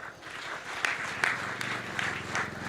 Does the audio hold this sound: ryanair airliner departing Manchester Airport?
no